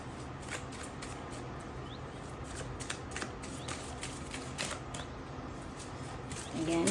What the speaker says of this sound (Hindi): Again, let me shuffle more.